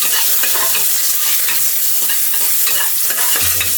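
Ginger frying in hot oil for pork sinigang, a steady loud sizzle with scraping stir strokes throughout and a low thump near the end.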